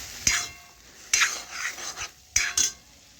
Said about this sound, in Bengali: এখন নাড়াচাড়া করে একটু আমি মশলার সাথে কষে নিচ্ছি।